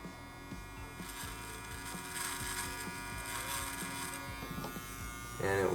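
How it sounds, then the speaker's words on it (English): An Andis T-Outliner hair clipper runs with a steady, close electric buzz and hum that holds throughout and grows slightly louder near the end. "Alright, so we're gonna go ahead and try this clipper."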